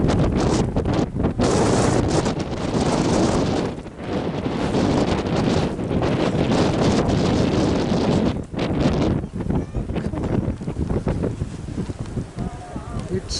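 Blizzard wind on snowy Mt Wellington, loud roaring gusts buffeting the microphone in surges, with brief lulls between blasts.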